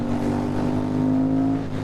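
A tuned 2008 KTM 990 Super Duke V-twin with a power commander and full Akrapovic exhaust, loud and steady at close range with a smooth, rumbling engine note and no talk.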